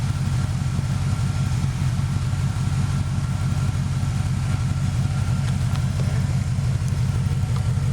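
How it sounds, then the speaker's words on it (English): A 1996 Chevrolet Impala SS with CIA Tri-Y headers idles steadily nearby, a constant low grumbling exhaust drone that holds even and unbroken throughout. "enjoy the nice new grumble of the installed headers and the improved performance"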